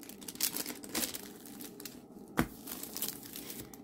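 A diamond painting canvas being rolled up by hand, soft crinkling and rustling with a few sharper crackles, close and quiet.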